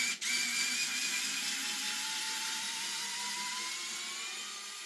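An electric screwdriver runs steadily, backing screws out of an airsoft MP9 lower receiver. A continuous whirring motor whine is close and fairly quiet, and its pitch drifts slowly.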